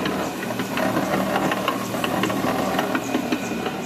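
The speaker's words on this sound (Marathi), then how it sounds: "हा 4 बोल्टी एक्सपेलर आहे।" A small four-bolt oil expeller pressing mustard oil runs steadily with continuous mechanical grinding and ratcheting clatter, loud and close throughout, with no voices.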